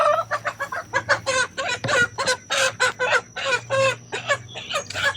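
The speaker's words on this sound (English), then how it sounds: "Chicken fight." Chickens cluck loudly and continuously in a scuffle nearby, with dense overlapping calls and squawks in a garden where potatoes are being dug.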